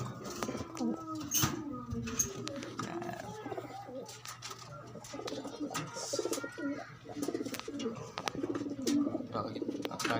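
Pigeons coo nearby in repeated low, throaty phrases, joined by scattered chirps, wing flutters and clicks, with light background noise throughout.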